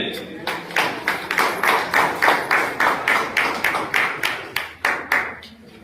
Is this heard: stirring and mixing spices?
no